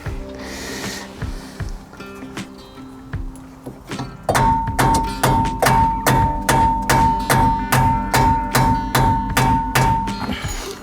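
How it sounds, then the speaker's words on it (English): Repeated metallic hammer blows on a Peugeot 107 wheel hub, ringing strikes in a steady rhythm about two per second, loud and close, after quieter handling sounds at the start. "I wonder if we could just give that a little tap just to see if that loosens that off."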